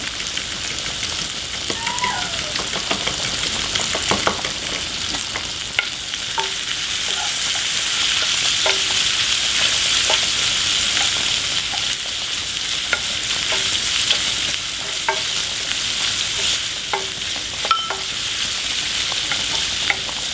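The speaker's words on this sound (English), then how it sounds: "as it cooks and we stir, the bacon breaks apart into its little pieces" Bacon fries in a pan for a chicken carbonara, with a constant crackling sizzle and scattered pops as it is stirred now and then with scraping, clicking strokes.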